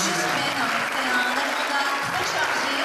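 A crowd at the Miss Aquitaine sash ceremony applauds a singer, a dense, sustained wash of clapping while a voice continues over it.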